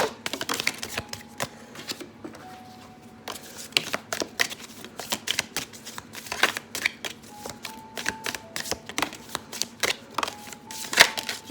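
A deck of cards is shuffled repeatedly for a card reading, giving soft riffling bursts and sharp snapping flicks in an irregular rhythm. The sound is close and fairly quiet, with no talking.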